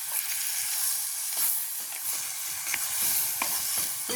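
Onions and chillies sizzle and fry in a pan over a village cooking fire while being stirred, a steady close crackle with scattered scraping clicks from the stirring.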